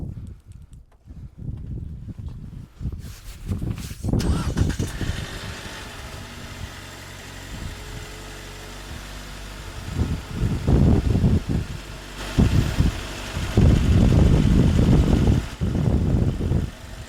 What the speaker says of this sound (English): it's got some chatter. I believe the temp screws are pretty worn out, maybe the chain's even loose.